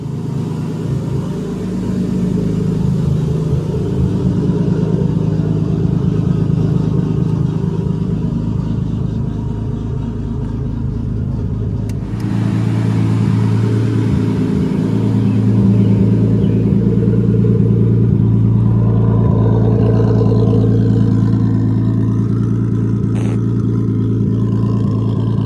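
A Nissan RB25-powered drift car engine cranks and fires, then settles into a rough idle with revs rising and falling, loud and close, with a sharp burst partway through.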